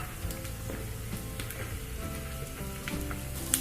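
Dried red chillies and shallots fry in hot oil for a Kerala cabbage thoran, giving a steady, close crackling sizzle with scattered pops and no voices.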